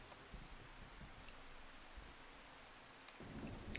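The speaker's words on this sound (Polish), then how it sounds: "deszcz i ten deszczyk będzie chwilę trwał" Steady rain in the Farming Simulator 25 video game, a continuous even wash of droplets with a low rumble building toward the end, heard alone without talk.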